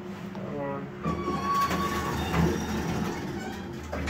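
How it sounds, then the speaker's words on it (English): An elevator door at Bartlett Hall, UMass, noted as noisy, slides with a faint squealing, grinding whine over rumbling machinery, fairly quiet and lasting a few seconds. "the door is a little noisy."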